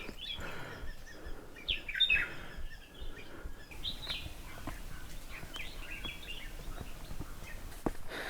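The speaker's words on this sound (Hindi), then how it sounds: "पक्षियों की बहुत अच्छी आवाज़ आ रही है" Faint birds chirp and call intermittently on a quiet mountain trek to Harihar Fort near Nashik, with scattered short tweets over soft rustling and occasional footsteps outdoors.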